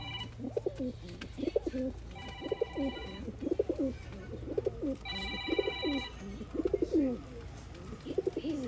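Pigeons kept for sale coo repeatedly in soft rhythmic bursts, fairly close, over a low background hum, with a brief electronic beeping tone sounding twice.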